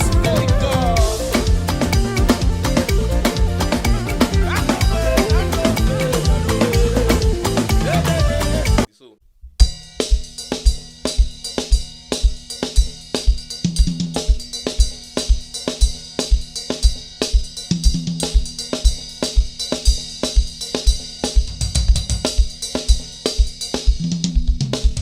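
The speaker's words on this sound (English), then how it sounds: "now the fourth thing we're going to be learning from Marcus today is another groove he played in church" A gospel praise groove played on keys in church style, a full dense band-like pattern for about nine seconds, a brief dropout, then a lighter repeating keyboard pattern with steady rhythmic chords and low bass hits.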